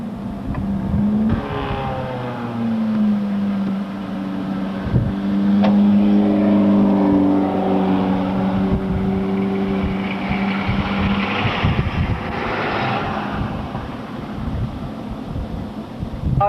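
Stock race cars roar around a short oval track, a sustained engine drone with rising and falling revs as the field passes, heard from the grandstand with some wind buffeting.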